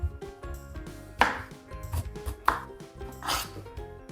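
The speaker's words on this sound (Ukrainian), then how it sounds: "Беремо ніж і відрізаємо краєчки огірка." A knife cutting the ends off a cucumber on a board for a salad, a few sharp, close chopping knocks at uneven intervals over quiet background.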